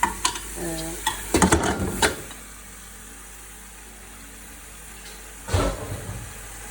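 Boiled beef paya with garlic and ginger being fried in masala, with bursts of stirring and scraping against the pot over a low sizzle, then a quiet stretch and another short stirring burst.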